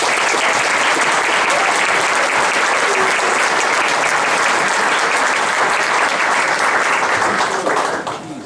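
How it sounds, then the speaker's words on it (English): Sustained, loud applause from a concert audience for a school jazz band at a spring jazz festival, dense steady clapping throughout that tapers off at the very end. "Would you please give them a big round of applause?"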